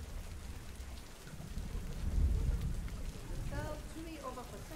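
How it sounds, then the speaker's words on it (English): Steady rainfall in a zoo simulation game, a soft continuous wash with a low rumble swelling briefly in the middle, faint voices and chirps underneath. "the rain makes it nice out though"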